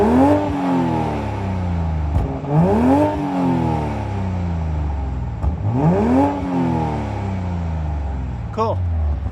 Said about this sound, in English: let's have Trish do an exhaust sound for us with the 40 here